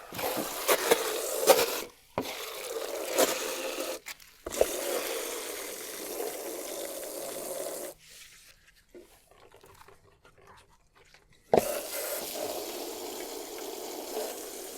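A garden hose flushes water through a roof gutter, a steady close rush of spraying and splashing that stops abruptly twice, with a longer quiet stretch before the flow returns.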